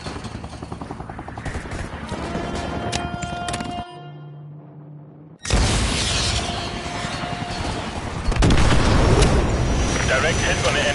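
Missile striking an enemy helicopter in Modern Warfare 2, a sudden loud blast after a brief lull, followed by rumbling debris and a second surge of noise, with voices speaking during the action.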